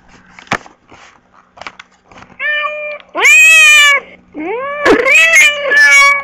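Cartoonish cat meows from the Meowmania button on the Bored Button website: a few quiet taps, then a string of loud, close, drawn-out meows that rise and bend in pitch.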